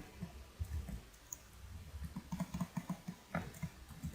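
Code is typed on a computer keyboard in quick, soft, irregular clicks, fairly faint and close, with brief pauses between runs of keystrokes.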